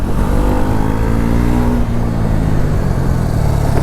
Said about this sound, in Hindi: सिर्फ फ्रंट ब्रेक पर रोक रहा हूँ